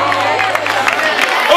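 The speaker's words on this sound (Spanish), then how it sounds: "Un fuerte aplauso a Isla Cristina para todos." A crowd at a New Year's Eve chimes celebration in Isla Cristina claps briefly, a dense patter of hands mixed with murmuring voices and a low steady hum.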